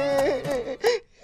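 A mournful, wavering voice wails and sobs in an animated folk tale. It gives one drawn-out, quavering cry followed by a shorter gasping sob, close and fairly loud.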